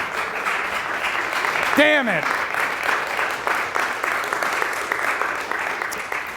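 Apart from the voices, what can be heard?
audience applause at a convention talk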